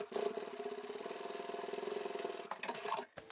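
A sewing machine runs a steady, close, buzzing line of stitches to close a vinyl and upholstery bag lining, then slows and stops with a few faint clicks at the end.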